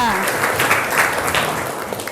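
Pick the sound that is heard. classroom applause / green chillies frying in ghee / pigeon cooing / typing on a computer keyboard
classroom applause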